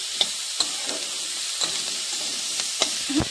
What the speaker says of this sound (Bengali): এবার এটাকে আমি খুব ভালোভাবে মিশিয়ে নেব